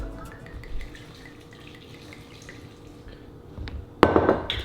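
White Claw and vodka pour over grapes in a container, a soft trickle and drip with glassy clinks, ending in a sudden louder splash near the close.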